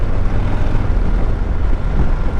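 A stock Harley-Davidson Dyna Street Bob FXDB motorcycle engine gives a loud, close, deep rumbling idle with a throbbing low-end pulse for a couple of seconds.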